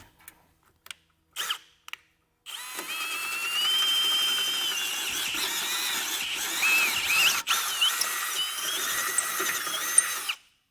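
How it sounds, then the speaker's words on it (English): A power drill with a half-inch bit bores holes through metal while fitting a base plate to a 2021 Jeep Grand Cherokee, a few short bursts and then a long steady whine for about eight seconds, close and fairly loud with no talk. "come back through with our 1/2 inch drill bit and get our holes drilled out the rest of the way"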